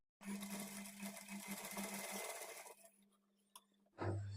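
A sewing machine runs in a steady, close whir while stitching piping cloth onto a blouse, then slows and stops with a few faint clicks.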